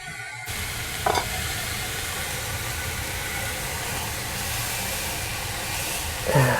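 A diet burger patty fries in a pan, giving a steady, loud sizzle that holds throughout with a couple of brief clinks or scrapes near the start and end.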